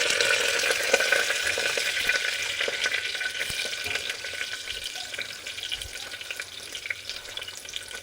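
Chopped onion fries in hot oil for a vegetable pulao, giving a continuous close sizzle with light stirring scrapes throughout.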